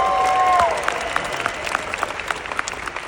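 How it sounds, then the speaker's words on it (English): Audience applause at a large business conference in Las Vegas, a broad wash of clapping with scattered sharper claps, fairly loud and steady, after a short electronic tone at the start. "Give yourself a round of applause for it."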